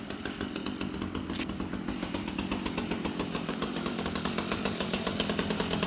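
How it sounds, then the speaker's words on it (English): A chainsaw runs steadily and loudly throughout while a palm tree is being removed in a backyard, its engine snarling with a rapid, even pulsing and no voices over it. "I believe the groundsman is preparing the chainsaw."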